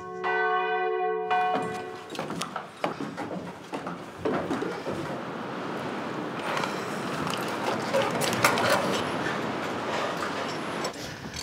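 Church bells ring in a village church bell tower, a bright tolling tone opening the clip before a dense, loud wash of overlapping peals and clanging fills the rest.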